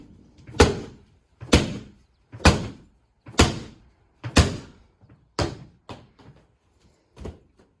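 Eight heavy ball slams land at a steady pace during a gym workout, each a loud, close thud that decays quickly, with the last few hits a little softer.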